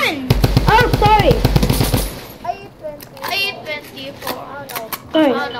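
Fast automatic gunfire in Fortnite Chapter 2 Season 3 rattles in a dense two-second burst while someone talks excitedly over it and keeps talking afterward.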